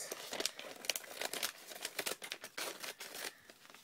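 Scissors snip through the crinkly wrapping of a homemade blind bag, close and crisp, with rapid bursts of crumpling and cutting clicks coming in uneven clusters.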